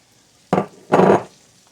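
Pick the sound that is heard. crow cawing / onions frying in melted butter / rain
onions frying in melted butter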